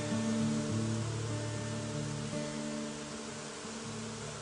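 A colony of bees swarms around a tree outdoors, giving a steady, layered droning hum of several overlapping pitches over a wash of background noise.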